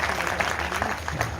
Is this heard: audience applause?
yes